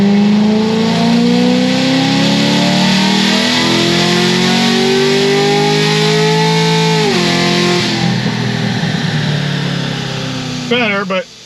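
A stage 3 Corvette C6 Z06 with a tall rear gear revs hard and loud, its pitch climbing steadily, then dips at a gear shift around the middle before pulling again; a short burst of chirping near the end.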